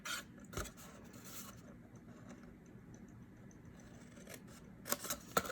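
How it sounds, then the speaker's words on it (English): Scissors snip through paper for a paper craft box, faint crisp cuts near the start and a cluster toward the end over a quiet room hum. "Just be careful you don't cut this line."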